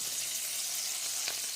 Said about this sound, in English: As you see here, got some nice sizzle going on.